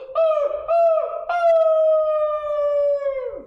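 A human voice imitates a sad, mournful howl: three drawn-out wails, the first two short and dipping, the last one long and slowly falling away, loud and close with no other sound.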